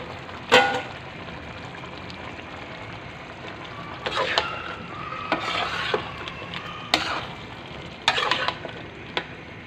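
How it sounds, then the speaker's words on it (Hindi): Potatoes and peas tipped into frying minced meat in a pot, then stirred with a spoon, giving soft sizzling under intermittent scraping and clinks of the utensil against the pan. "इसमें आलू मटर डाल दूँ।"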